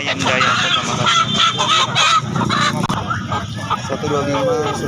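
Ducks quack and honk in a noisy chorus at a village poultry market in Makassar, with people talking and market bustle mixed in throughout.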